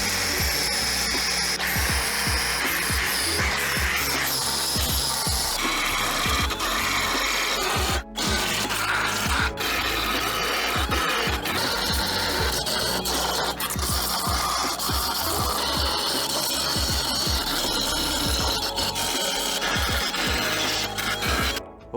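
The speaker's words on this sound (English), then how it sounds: "we're gonna sand what I have welded smooth" Continuous loud power sanding on welded seams of a Toyota GR Supra chassis firewall, a steady abrasive whir with shifting grinding tones and one short pause, no talking.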